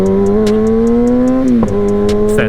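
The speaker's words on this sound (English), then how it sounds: "It's that traction control when you hear that stutter." A motorcycle engine held in second gear hums loudly and steadily, then stutters briefly as traction control cuts in before the note resumes, close and alone with no talk.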